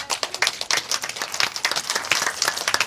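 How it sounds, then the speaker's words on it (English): A seated audience at a talk applauds, a brisk, fairly close patter of many hands clapping steadily for a few seconds with no voices over it. "We can applaud for that"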